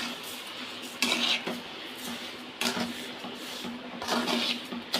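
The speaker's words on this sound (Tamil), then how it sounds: "இப்போ நல்லா கிளறி விட்டுக்குவோம்" Ash gourd halwa with sugar is stirred in a pan, producing repeated scraping and clinking of a spoon against metal in uneven strokes over a low steady hum, close and moderately quiet, without talk.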